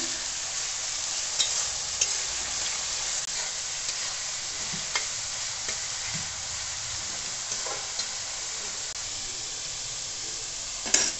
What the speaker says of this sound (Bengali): নুন দিয়ে খানিকটা ভেজে নেব